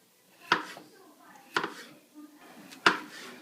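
A knife chops potatoes into chunky cubes for corned beef hash on a board, landing three sharp, close thuds spaced about a second apart with quieter handling noises in between.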